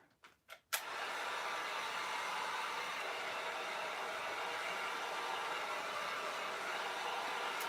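Hair dryer blowing to dry paint and decoupage work, starting after a few brief clicks and then running as a steady, even whoosh until the end.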